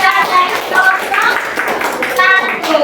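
Classroom applause for a student group breaks out as a dense patter of many hands clapping together, near and fairly loud, with voices mixed into the clapping.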